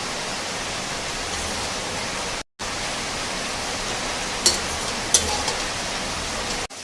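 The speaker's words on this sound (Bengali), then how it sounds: "তো জলটা ফুটে গেছে" Water comes to a boil in a cooking pot as leafy greens are cooked, a steady broadband hiss and bubbling rush that is close and even, with a brief gap and a couple of small clicks.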